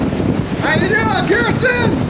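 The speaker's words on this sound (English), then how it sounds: "It's a little windy." Wind buffets the microphone on a cruise ship deck in Seattle, a steady close rumble with faint sea noise, while people talk and call out over it.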